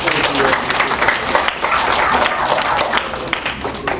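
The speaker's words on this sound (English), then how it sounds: "Give her another round of applause." An audience of mixed ages claps at a magic show in a library, loud, close and continuous, with the dense patter of many hands filling the room.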